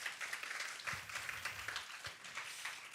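A symposium audience gives a warm round of applause for the experts, dense continuous clapping from many people, soft and somewhat distant, holding steady throughout with faint low murmurs beneath.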